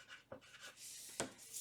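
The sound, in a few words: handwriting, writing a name on paper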